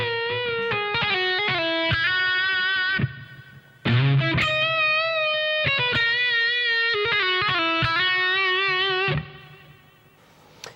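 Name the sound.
distorted electric guitar solo phrase played at slow tempo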